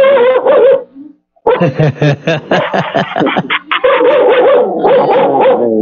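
A dog barks loudly and close in a rapid series of yips and barks, with a short pause before another burst, mixed with indoor background noise.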